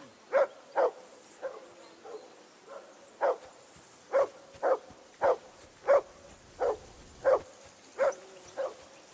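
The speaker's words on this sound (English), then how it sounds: "I assume you can hear that damn dog of yours barking." A dog in the medieval video game Kingdom Come barks repeatedly in a steady, evenly spaced rhythm, about fourteen sharp woofs at moderate distance over quiet ambience, with no voices.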